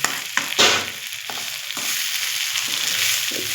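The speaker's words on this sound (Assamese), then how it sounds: "তেলখিনি গৰম হোৱাৰ পিছত ধুনীয়াকৈ চাউলখিনি দিছোঁ।" Rice grains hit hot oil with a sharp burst of sizzling, followed by a few scraping stirs and a steady, close frying hiss.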